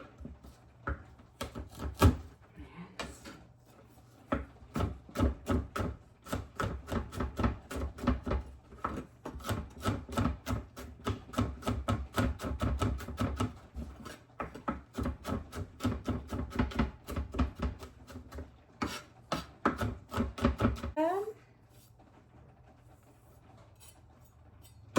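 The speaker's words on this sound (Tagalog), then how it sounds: "So, imimins lang po natin ang garlic." A knife mincing firm garlic on a cutting board gives a long run of rapid, close chopping taps that repeat steadily for about twenty seconds and then stop.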